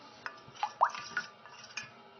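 Water poured onto pap (akamu) being dissolved in a stainless steel plate, with a few soft wet splashes and metallic drips spaced irregularly, close and quiet, no voices.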